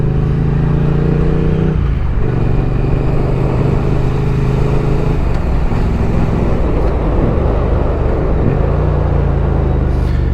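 A 2020 Triumph Street Twin modern classic motorcycle engine rumbles loudly up close, with a few rising and falling revs and gear-change dips over a steady low drone, no talking.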